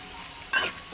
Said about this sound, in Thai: ผัดพริกแกงก็จะเป็นแบบนี้นะคะ